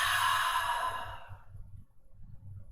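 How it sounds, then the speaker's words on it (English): A single long, breathy Ujjayi exhale during a gentle yoga flow, heard close and alone, fading out over about a second and a half into quiet low room tone. "just that normal Ujjayi breath, that inhale, let everything soften"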